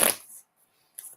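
Tarot cards are shuffled in two quick riffling bursts, a crisp papery flutter at the start and a shorter one near the end, with a brief silence between.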